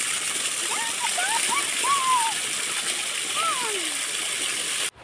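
Water gushes and splashes steadily from a pump set outdoors in hot sun, a constant close rush with a few high chirping calls rising above it before it cuts off at the end.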